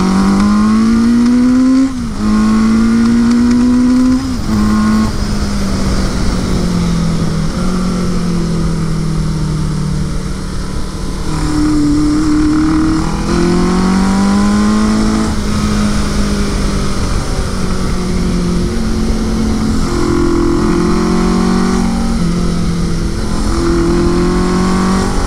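A Suzuki GS850 scrambler motorcycle engine drones loudly and continuously while riding, its pitch rising and falling with throttle and gear changes, close and dominant with no voices.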